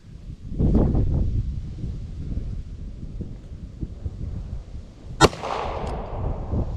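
A single sharp, loud revolver shot cracks outdoors near the end, ringing briefly after. Before it, low wind rumble and handling noise fill the air.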